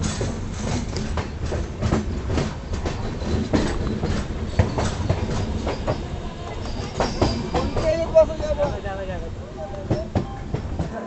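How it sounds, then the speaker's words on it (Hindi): Andhra Pradesh Express pulling into Chandrapur station in Maharashtra, a steady rumble of rail cars with clicking wheel beats and squeaks throughout, loud and close, with an announcement-like voice and chatter faintly mixed in. "हमारी आंध्र प्रदेश आ चुकी है महाराष्ट्र के चंद्रपुर"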